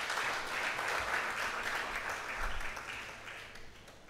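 An audience at a live democracy forum applauds steadily, a dense wash of clapping that holds at full strength for about three and a half seconds before thinning slightly at the end.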